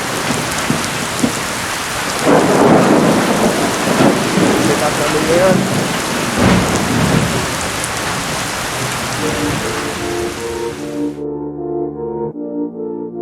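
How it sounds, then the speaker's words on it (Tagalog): Heavy rain roars steadily with rumbles of thunder during a typhoon outdoors in the UAE, a few words spoken faintly beneath it, before the downpour cuts off abruptly and tonal music takes over. "kasi lakas na lakas ng ulan."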